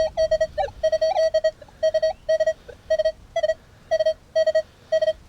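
A handheld metal detector sweeping over a buried coin target on a flooded Australian beach gives a rapid run of loud, clear electronic beeps in short, repeated bursts, with no talk.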